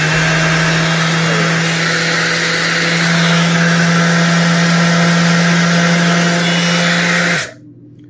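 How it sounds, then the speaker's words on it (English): A DeWalt cordless sander spins at full speed with a loud, steady whirring hum that holds unbroken and then cuts off abruptly near the end. "So what it does, it spins, and in that way, smooth the surface."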